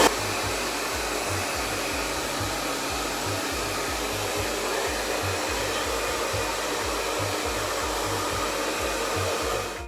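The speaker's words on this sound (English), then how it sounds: "when I blow dry it, I just kind of put it in a twist and blow dry down my hair" A hair dryer on medium heat blows steadily at close range while drying long wavy hair, a constant loud whoosh with a rhythmic low flutter, no voices.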